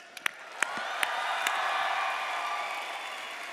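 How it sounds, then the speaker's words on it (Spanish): A live roast audience claps and cheers for tío Robert, opening with a few sharp individual claps before swelling into sustained crowd applause with whoops and shouts that hold steady at moderate distance. "Un aplauso para el tío Robert, ¿no es?"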